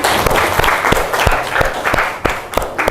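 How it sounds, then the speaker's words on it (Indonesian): Students applauding a classmate in a classroom lesson, a loud, close round of many hands clapping with a few sharp individual claps standing out, lasting about three seconds. "Beri tepuk tangan ke Alintia."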